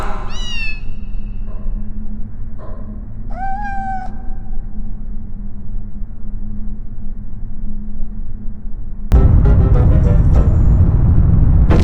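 Cartoonish kitten meows from the Harry Potter and the Sorcerer's Stone game on PS1, a few short rising mews over a low ambient game drone, followed by a louder burst of game sound near the end.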